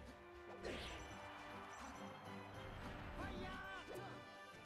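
Forward smash landing in a competitive fighting video game, a sharp crashing hit with whooshing swipes around it, set under excited commentary and a buzzing tournament crowd.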